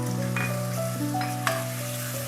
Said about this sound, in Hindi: अच्छी तरह मसालों को चिकन में मिक्स कर लें